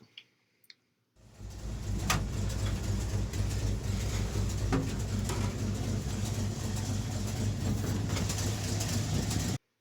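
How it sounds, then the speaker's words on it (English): REO M-35 military truck engine starting up after a few faint clicks, then a loud, steady rumbling idle with occasional throttle rises and rattling, no talk. "you can hear that when you step on the gas, the RPMs go up, and it still sounds all right"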